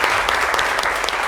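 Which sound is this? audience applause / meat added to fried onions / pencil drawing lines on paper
audience applause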